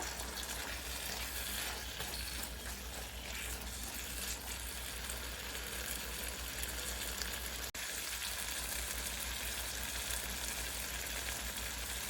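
Dried fish pickle cooks in a pan over medium heat, giving a steady, close sizzle and hiss of frying that runs without a break for about twelve seconds.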